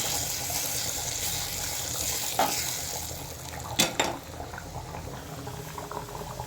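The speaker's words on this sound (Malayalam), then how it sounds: "കുറച്ച് കാശ്മീരി മുളക് പൊടി ഇട്ട് കൊടുക്കാം അതും കൂടി ഇട്ട് നന്നായിട്ട് മൂപ്പിച്ചെടുക്കാം" Kashmiri chili powder and onions fry and bubble steadily in a curry pan, a constant close sizzle with a few brief clatters of stirring and no talk.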